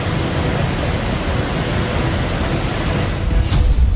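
Heavy monsoon rain pours down in Gujarat, a dense, steady hiss of downpour on surfaces, loud and unbroken, with a brief sharper splash near the end.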